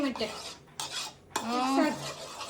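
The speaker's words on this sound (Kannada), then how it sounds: "ಮಿಕ್ಸ್ ಆಗಿ ಈ ಮೊಟ್ಟೆ" A spoon stirs eggs in a pan for an egg rice dish, making a few scraping clinks and metallic taps that come in short bursts with brief pauses, close up and moderately loud.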